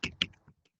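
Two crisp computer keyboard keystrokes, the second a firmer Enter press, followed by faint lighter clicks, close and isolated in a quiet room.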